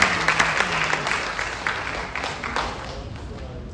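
An audience claps for a singer at a live event, a brief burst of scattered applause that fades out over a few seconds, with a voice speaking over it.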